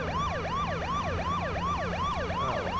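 A vehicle siren in the game H1Z1 wails continuously in fast, repeating up-and-down sweeps, loud and close, over a low steady engine hum.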